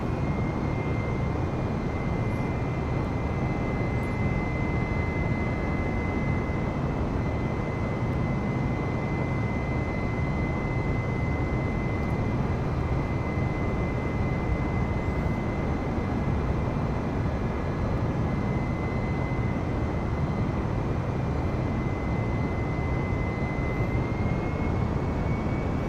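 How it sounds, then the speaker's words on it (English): Airliner engines in a flight simulator spool to takeoff power on the runway, a steady, loud, dense roar with a thin high whine on top that holds evenly for the whole stretch, with no talk. "cabin crew, prepare for takeoff"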